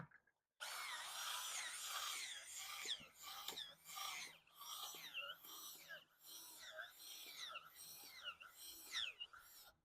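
Small 20-volt cordless driver spinning a garden auger into raised-bed soil, a faint, uneven grinding and scraping rasp that surges and dips as the bit bites, with some talking mixed in.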